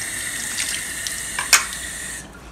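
A tap runs steadily with a soft rushing hiss while rinsing rose petals out of a blender, a brief louder splash near the middle, then the flow cuts off just before the end.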